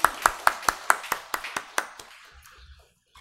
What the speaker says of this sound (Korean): 사랑과 박수의 격려로 예담이 축복했으면 좋겠습니다